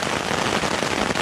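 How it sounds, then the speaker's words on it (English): Heavy downpour drumming on a tent, a dense, steady hiss of raindrops pelting the fabric close by, loud and unbroken with no voices. "absolute monsoon rain is gonna stop anytime soon."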